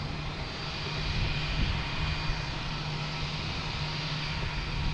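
A United Airlines Boeing 737 MAX 9 arriving from Houston at Boston Logan Airport gives a loud, steady jet engine roar with a sustained low hum, heard from the ground with no voices.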